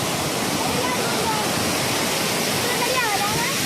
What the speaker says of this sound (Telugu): రెండు కళ్ళు సరిపోవట్లేదండి ఈ వాటర్ ఫాల్ని చూస్తుంటే